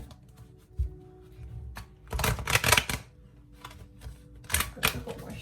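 Oracle card deck being shuffled by hand, two bursts of crisp riffling and flicking close to the microphone, separated by quieter handling.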